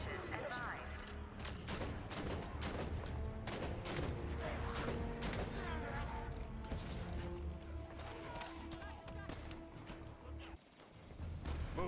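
Dense, continuous gunfire from the video game Halo 5: Guardians with rapid bursts and explosive crashes layered over music, steady and loud before a brief drop near the end.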